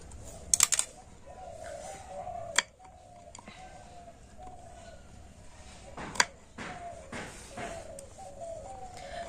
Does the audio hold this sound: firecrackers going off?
no